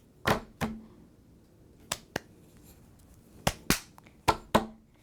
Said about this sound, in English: pat twice, clap twice, snap twice, clap twice